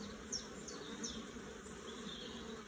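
Honey bees buzzing around a hive frame during an inspection, a faint, steady drone with a few brief louder passes of individual bees.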